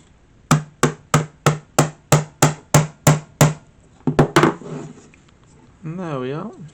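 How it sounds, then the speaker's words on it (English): Around ten sharp, evenly spaced hammer taps drive a Citroen C4 Grand Picasso Mk1 keyfob case into place, each one close and crisp. A few quicker knocks follow, then a short, low rising and falling scrape. "you give it a gentle tap with a hammer"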